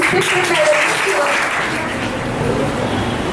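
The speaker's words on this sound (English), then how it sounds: "please give her a big round of applause" An audience in a lecture hall gives a steady round of applause for an invited professor at an academic talk, a short, even burst of many hands clapping throughout.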